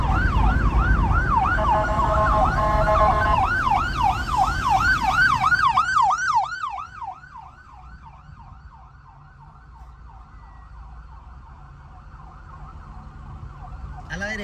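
An ambulance siren wails in a fast repeating up-down pattern, loud at first over city traffic rumble while driving into San José, Costa Rica, then fading steadily into the distance as it passes.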